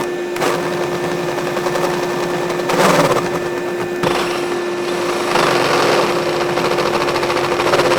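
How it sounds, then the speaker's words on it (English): Step drill bit boring a hole for a waterproof cable gland: a continuous buzzing motor whine with gritty cutting noise, rising in short louder bursts as the bit bites through, close and alone. "we're just going to get started drilling this hole"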